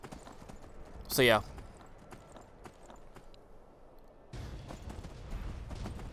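Horse hooves clip-clop in the Skyrim video game as a mounted rider travels the road, a steady rhythm running under a brief spoken remark and louder game ambience.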